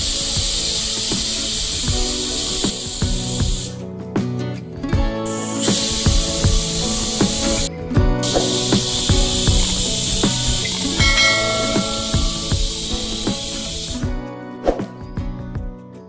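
A pressure cooker boiling pigeon pea pods on a gas stove hisses loudly and steadily, with the spray of steam cutting in and out in several bursts over a background of clattering tones.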